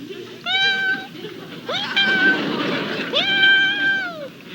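A cat gives three drawn-out meows in a row, clear and close, with a murmur of background noise between the calls.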